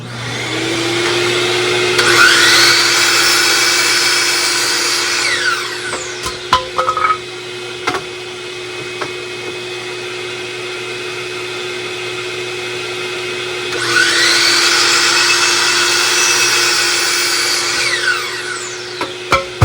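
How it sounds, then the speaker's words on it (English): A miter saw rough-cuts construction-grade lumber: two loud whining cuts rise and fade over a steady motor hum, with clattering and knocks of wood being handled between them. "We moved over to the miter saw, so we're just going to get this rough cut and squared up"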